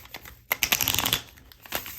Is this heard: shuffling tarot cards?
yes